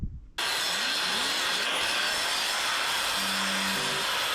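A power tool starts abruptly and runs in a steady, harsh, broadband whine while cutting a part for an old David Brown 850 tractor, close and continuous to the end.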